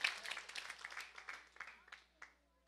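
Applause from a church congregation praising God, a dense spread of clapping that starts full and thins out into scattered claps over a few seconds, moderately distant.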